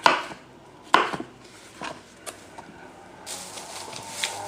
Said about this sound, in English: I'll probably cut up about 6 or 7 mushrooms.